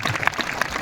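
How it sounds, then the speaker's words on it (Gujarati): A congregation at a Christian spiritual awakening festival gives a brief burst of clapping in thanks to God, with sharp, uneven claps. "જરા તાળી પાડી પ્રભુને ધન્યવાદ કરો."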